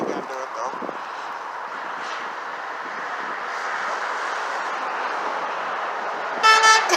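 A truck's loud blaring horn blasts briefly near the end, following a stretch of steady traffic and engine rumble; people's voices are faintly present.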